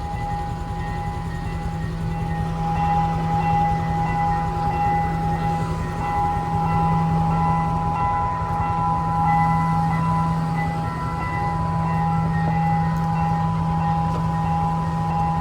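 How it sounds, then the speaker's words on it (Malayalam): A small city passenger train in Sri Lanka rumbles steadily close by, its low engine drone and humming tones continuous throughout, with no voices. "ഇത് ഇവിടുത്തെ ഒരു ചെറിയ സിറ്റി പാസഞ്ചർ ട്രെയിനാണ്"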